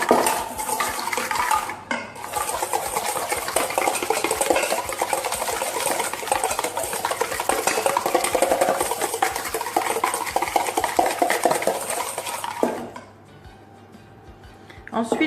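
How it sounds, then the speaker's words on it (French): Egg yolks and caster sugar being whisked in a bowl for a three-chocolate Yule log, a steady rapid clatter of whisk against the bowl lasting around eleven seconds before stopping into quiet. "Je vais ajouter le reste du sucre en poudre à mon jaune d'œuf. Et je vais fouetter."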